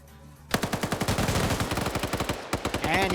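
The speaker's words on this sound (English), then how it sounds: "Technically an FN mag." Rapid bursts of FN MAG machine gun fire in a video game, loud and close, a steady rhythmic stream of shots that pauses briefly, then resumes.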